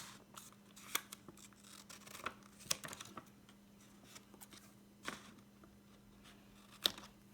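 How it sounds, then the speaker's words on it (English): Scissors snip through packaging material in a series of irregular, crisp cuts with quiet handling noise between them, close and fairly faint, with no talking. "that's where I cut it to straighten it out."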